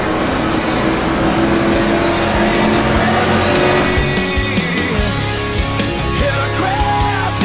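Race cars in the NASCAR Racing 2003 video game roar loudly and continuously at SimTel Park, with engines droning, tires squealing and skidding as one car spins and others swerve past, and a faint voice underneath.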